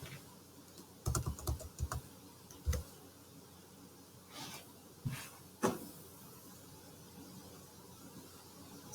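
Fingers tap and backspace on a computer keyboard in a quiet room, producing short clustered bursts of clicking keystrokes with brief pauses between them and no speech.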